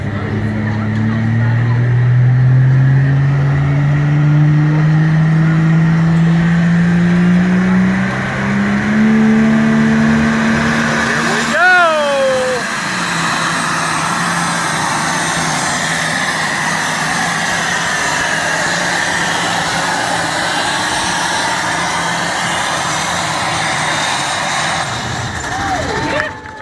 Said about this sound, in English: 4 turbochargers on this tractor, 504 cubic inches